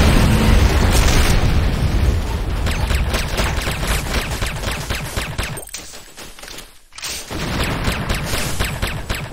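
A GDI advanced guard tower in Renegade collapses in a heavy, rumbling game explosion, a loud continuous roar of blasts and crackling debris that briefly drops out before surging back.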